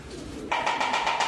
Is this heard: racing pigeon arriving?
yes